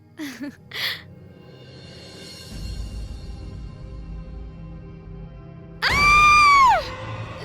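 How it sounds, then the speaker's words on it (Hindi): A woman's shrill, piercing scream rises and then falls over about a second, near and loud. It comes from a Hindi horror story set on a road trip to a circus, after a stretch of quieter ambient background and brief earlier sounds. "ये किसकी चीख थी?"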